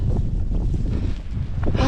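Strong wind blows in snowy mountains near Stepantsminda (Kazbegi), Georgia, after heavy snowfall, producing loud, continuous low rumbling buffeting close to the microphone.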